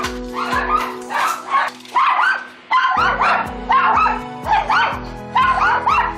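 Several excited dogs bark loudly after a doorbell rings at home, sharp repeated yips and bow-wows in quick bursts close by, over a steady low hum.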